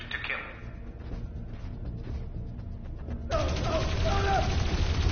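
Guards firing in Dreamfall: Chapters, a dense rattle of gunfire that swells louder midway and continues to the end, with a voice over the shots.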